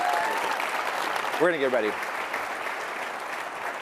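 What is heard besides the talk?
audience applause for hackathon teams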